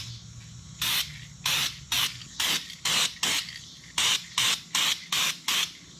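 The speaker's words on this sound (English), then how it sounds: "let's go ahead and start spraying" A series of short hissing spray-can bursts painting Ford EcoBoost turbocharger parts, about ten in quick irregular succession, close and fairly loud with quiet pauses between.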